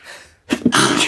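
A person sneezes loudly, with a short sharp burst followed by a longer noisy release, close to the microphone after a brief pause.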